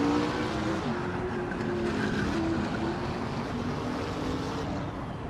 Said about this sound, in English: Rut 3 Boy Gaming Studios is driving a 2015 Fiat Tipo Competizione